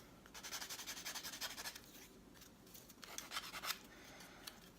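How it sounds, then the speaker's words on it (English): A file works the rough edges of a modified travel lint roller in quick, faint scraping strokes, a run of rhythmic rasps, a pause, then a few more short strokes, no talk. "I'm filing down and just all those little rough edges"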